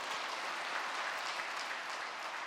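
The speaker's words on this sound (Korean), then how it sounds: "우리 사교구 박수 한번 쳐주면 좋겠어." Congregation applause in a Korean Full Gospel church during a Wednesday sermon, a steady, fairly quiet wash of clapping that holds evenly throughout without any talking.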